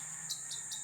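Small birds call outdoors in a quick, short run of three high chirps, set against faint background ambience.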